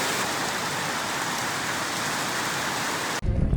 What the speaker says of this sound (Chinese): 突然之间下大雨，哇塞！